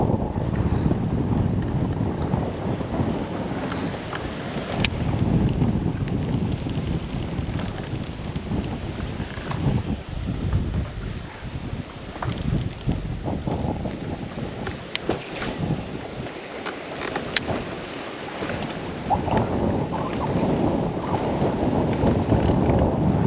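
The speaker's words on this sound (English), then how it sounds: "This is some serious wind. No doubt about it." Strong wind gusting across open water while bass fishing from a boat, a constant loud roar buffeting the microphone with rumbling low gusts and occasional knocks, no talking.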